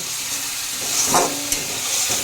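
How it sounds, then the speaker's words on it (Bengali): Turmeric and chilli powder spices sizzle steadily as they are sautéed in a kadai for a Bengali fish curry made without onion or garlic, with a brief louder stir-scrape midway and no voices. "এবার এটা কষিয়ে নেব।"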